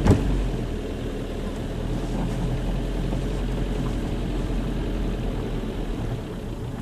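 A quiet motor idles steadily at close range, a low even drone running throughout after a brief bump at the start, with no voices over it.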